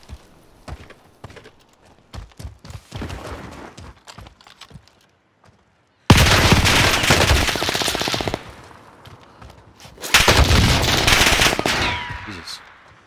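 Submachine gun fire from Call of Duty Warzone: scattered single shots and footsteps early on, then two long, loud sustained automatic bursts, sharp and close.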